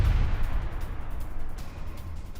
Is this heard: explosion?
yes